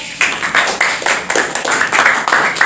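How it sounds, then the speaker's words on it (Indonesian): A class applauds a student group in a university classroom, with steady clapping from many hands that stays fairly loud and dense throughout, broken by a few sharper bursts. "kelompok 1 berikan aplaus dulu ya"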